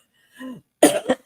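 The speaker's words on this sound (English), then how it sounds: "sorry, if I cough during the show" A person who has been sick this week gives a short, close cough with a brief vocal lead-in, two harsh bursts in about a second.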